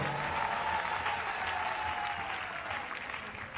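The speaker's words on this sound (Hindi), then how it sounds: "आपकी तालियां फिर भी कमजोर है।" An audience at a large Hindi poetry gathering in Bhilwara, Rajasthan breaks into sustained applause, a dense, even wash of clapping that fades slightly toward the end.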